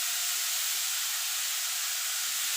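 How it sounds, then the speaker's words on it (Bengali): Lightly salted mixed vegetables fry in a pan for veg dal, giving a steady, close, unbroken sizzle and hiss with no voices. "সামান্য লবণ দিয়ে দেবো যাতে তাড়াতাড়ি সবজিগুলো ভাজা হয়ে যায়।"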